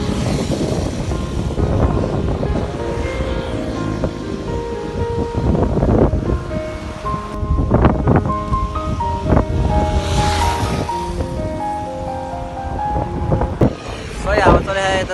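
Strong wind buffets the microphone on a ride from Nawalpur to Pokhara, a loud, rough rushing that swells and dips throughout while people talk over it.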